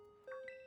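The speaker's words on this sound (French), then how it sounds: "Ding dong." An announcement chime from the Pokémon Violet video game rings out as a short two-note ding-dong, two bright tones struck in quick succession and left to ring, clear and alone.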